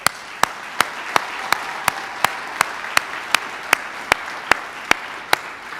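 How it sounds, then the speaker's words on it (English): Audience applause for veterans at a Department of the Army retirement ceremony: a wash of crowd clapping with one loud, close clapper striking a sharp, steady beat roughly twice a second throughout. "Please join me in a round of applause for them."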